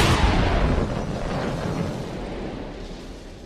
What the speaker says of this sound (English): The sky lit up with the huge explosion.